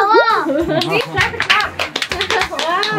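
Sharp hand claps inside an elevator ring out among excited voices, as children and adults exclaim and talk loudly over the clapping.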